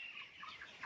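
Young chickens cluck and peep briefly on a poultry farm, a soft, fairly faint burst of fowl calls with no talking.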